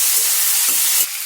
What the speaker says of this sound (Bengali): বেগুনগুলো হালকা করে ভেজে নেব